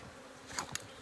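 Honey bees buzz around an opened hive during a beekeeping class, a soft steady hum with a couple of brief louder passes of bees flying close by.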